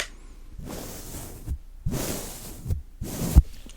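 Three soft, breathy swishes of an orange brush sweeping across a microphone, each lasting about a second with short quiet gaps between them.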